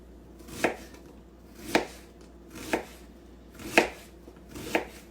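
A knife chops strong onions on a board in five evenly spaced, crisp strikes about a second apart, close and clear against a quiet background, with no voices.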